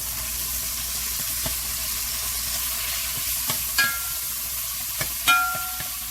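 Onion mirepoix with spices and ground white pepper cooking in a pot for turkey chili, a soft continuous sizzle under occasional stirring clicks and light scrapes of a utensil against the pot.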